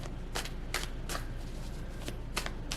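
Close, brisk shuffling of a tarot deck, several quick papery riffles and flicks over a low steady background hum, with no voice.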